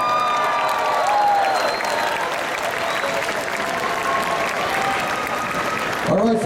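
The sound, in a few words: audience applauding sumo match winner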